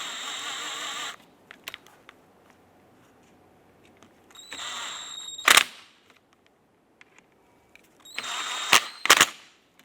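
A power drill snugs the grille bolts on a 2005-2007 Ford Five Hundred front grille in three short whirring bursts, each ending in a sharp high peak, with near-silence between them.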